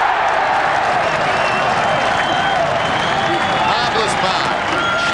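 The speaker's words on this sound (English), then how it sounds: "Tasmania suddenly inspired, and the crowd have come to life." A football crowd at North Hobart Oval, during a Tasmania v Victoria State of Origin match, roars and cheers steadily. The broad, dense crowd noise holds for the whole stretch with no voice on top.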